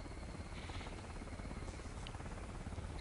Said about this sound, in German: Oh mein Gott, ein Hubschrauber.